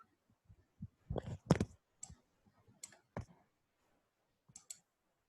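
Mouse clicks while working in 3ds Max: a handful of sharp, dry clicks come at irregular intervals, some in quick pairs, close and fairly quiet in an otherwise silent room.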